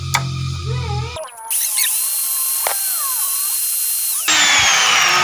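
A small power tool whines steadily at high pitch while trimming a part for a SYM motorcycle clutch conversion, with brief shifts in tone as it bites the workpiece and no talking.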